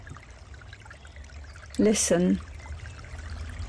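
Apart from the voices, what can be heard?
water trickling toward a brook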